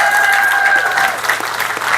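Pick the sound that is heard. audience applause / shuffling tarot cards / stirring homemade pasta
audience applause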